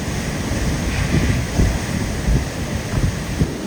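Storm-surge waves roll into a bay during Typhoon Mawar on Guam, a steady loud roar of surf and wind buffeting the microphone, with heavier rumbling surges breaking through now and then.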